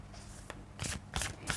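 Two decks of Ganesha tarot cards being shuffled by hand, a few soft riffling bursts with brief pauses between them, close and fairly quiet with no talking.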